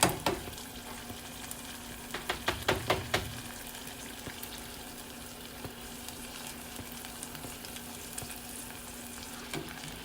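Battered onion rings frying in hot oil make a steady, even crackling hiss, with a short burst of clattering stirring or handling early on, then a continuous low sizzle, close and free of talk.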